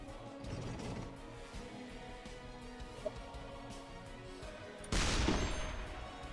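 A grenade blasts in the ShellShock Live artillery game: a sudden loud, broad burst near the end that decays over about a second, over a steady bed of game sound.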